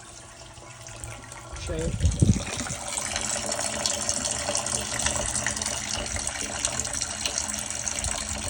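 Wastewater from the second chamber of a DIY off-grid septic system built from 55-gallon barrels gushes steadily into a leach tank, a continuous close splashing flow after a brief thump, with a short spoken word over it.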